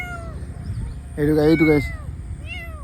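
Kitten meowing nearby, a loud drawn-out wavering meow in the middle and a shorter cry near the end, with a person speaking briefly.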